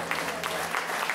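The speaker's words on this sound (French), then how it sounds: "je crois qu'on peut les applaudir très, très, très fort" A theater audience claps for performers, a short burst of dense, steady applause from many hands in an indoor hall.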